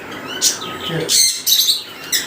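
Pet birds chirping at a bird farm, a few short, sharp high tweets and calls close by over a low background murmur, lasting only a couple of seconds.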